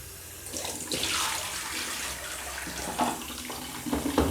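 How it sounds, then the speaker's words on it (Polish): Tap water rinsing black-and-white film negatives during home development, splashing and sloshing in uneven bursts as the water is poured and shaken, close and fairly quiet, with no talking. "Tłuczemy kilkakrotnie, wymieniając wodę, tak żeby wypłukać cały wywoływacz."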